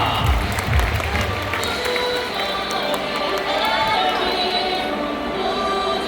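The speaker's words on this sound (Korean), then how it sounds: "여러분, 환영의 박수를 부탁드리겠습니다." Crowd at a baseball stadium for an LG Twins versus KT game applauding and cheering to welcome the first-pitch and first-batter guests, a steady broad wash of clapping and crowd noise with some chatter mixed in throughout.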